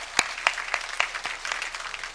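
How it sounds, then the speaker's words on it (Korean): A church congregation at a Sunday worship service claps together, a short patter of applause with a few louder hand claps standing out near the start. "하나님께 영광의 박수를 드립니다."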